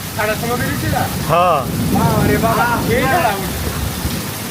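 Rain pours down as a steady broadband hiss outdoors, with several people talking over it close by throughout.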